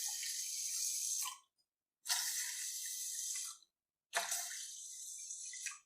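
Three separate cups of water are poured into a pot of rice for sweet pongal, each a splashing gush lasting over a second with brief pauses between, close and clear with no talking.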